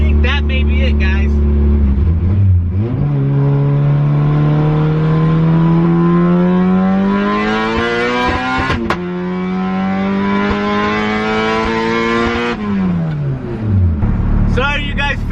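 A modified Acura Integra engine revving hard through an acceleration pull, a loud rising wail that climbs, catches a brief shift, climbs again, then drops away as the throttle closes.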